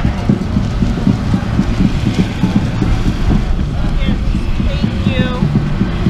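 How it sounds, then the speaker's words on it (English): Wind buffets a GoPro camera's microphone in a steady rumbling roar, with a low engine-like drone underneath and no clear pauses. "oh, it's starting to get windy."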